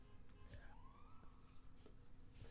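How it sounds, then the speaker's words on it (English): Emergency sirens wail in the distance, one faint rising-and-falling sweep heard over low background hum in a quiet indoor room. "Got the sirens going off around here too."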